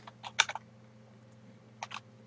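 A few quick computer keyboard keystrokes, entering a command on a Cisco device, sound close up over a low steady hum, in two short bursts with a pause between them.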